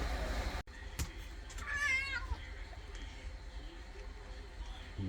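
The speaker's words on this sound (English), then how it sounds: "That's a nice cat." A cat meows several times in a repair shop where drive-shaft U-joints are being installed, the rising, wavering cries standing out near and clear over low shop background noise.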